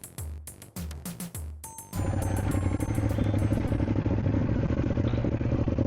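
Ducati Monster 821 motorcycle engine: a few short blips at first, then a steady loud running rumble close by that holds for several seconds.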